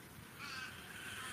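Crows caw faintly in the distance outdoors in Australia, their hoarse calls blurred into a steady hiss of background noise with no voices present.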